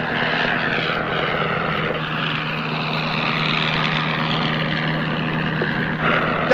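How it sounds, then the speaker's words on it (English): An Avro 504 propeller biplane drones in flight, a steady engine and airscrew roar with a rough buzzing texture, sustained and fairly close throughout. "Douglas was airborne within a couple of days on his first instructional flight in an Avro 504."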